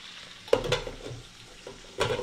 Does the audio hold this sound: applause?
no